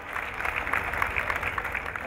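Audience applause at an Eid mushaira poetry gathering welcoming a poet to the stage, a moderate, even patter of many hands clapping at medium distance.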